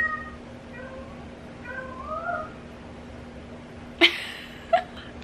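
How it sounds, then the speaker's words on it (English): A cat meows twice in short, sharp calls near the end, after a stretch of quiet background sound with faint higher tones. "Yep, that's my cat."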